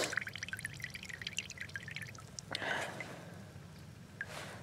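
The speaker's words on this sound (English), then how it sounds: "I can wring water out of them" Water wrung out of soaked Carhartt winter gloves, heard as faint, close-up dripping and trickling with a brief louder splash midway.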